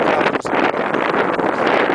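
Strong wind roars steadily across the microphone in Goczałkowice, Poland, a dense continuous rush with gusty swells throughout.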